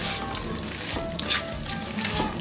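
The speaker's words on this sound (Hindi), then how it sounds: "तब तक हम अपनी सेवैयों को गोल्डन फ्राई कर लेते हैं" Vermicelli frying golden in ghee for sheer khurma gives a steady close sizzle and crackle, with a few brief clinks of a stirring spoon and no voices.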